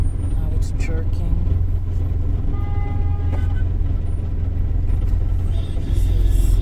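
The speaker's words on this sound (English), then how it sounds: "The car is shaking like it wants to cut out. Now it's jerking." Car engine rumbling and shuddering unevenly as if about to stall, a steady low drone with jerky surges, with people talking over it inside the car.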